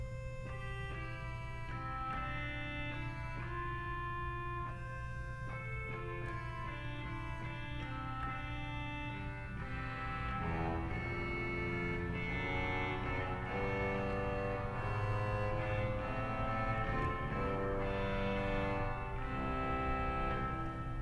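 Pipe organ at Old St. Patrick's Cathedral in New York City playing its clarinet stop, treble and bass, a steady sustained reedy tone moving through a slow chord passage with a held low bass line, heard alone in a resonant space.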